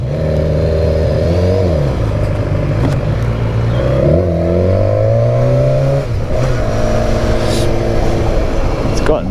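A BMW S1000 XR motorcycle engine revs up and down in loud, sustained throttle sweeps, its exhaust rumbling close by throughout.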